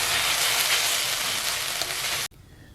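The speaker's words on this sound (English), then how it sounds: "Please keep stirring the onions in the middle." Onions frying in a pan during preparation of chicken keema spaghetti Bolognese, a steady close crackling sizzle with faint stirring for about two seconds before dropping suddenly to a quiet background.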